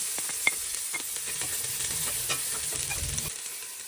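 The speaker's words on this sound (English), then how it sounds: "Once heated up, fry the garlic and diced onions." Garlic and diced onions fry in hot annatto oil, a steady close-up sizzle broken by faint stirring scrapes and small pops.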